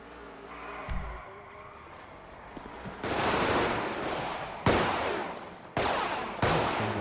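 Quiet ambience gives way to loud bursts of video game gunfire at the in-game Banner Hotel, several sharp volleys arriving in quick succession with brief pauses between them.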